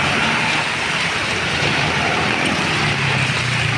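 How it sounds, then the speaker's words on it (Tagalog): Steady, dense rain hiss from a typhoon fills the air without a break, a constant wash of falling water with no voices. "patuloy ang pag-ulan ngayong araw na to"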